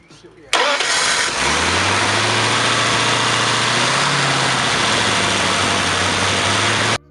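A new starter cranks a 59L Ford flathead engine with a sharp whirring grind that catches and runs as a loud, steady engine drone for several seconds before cutting off abruptly.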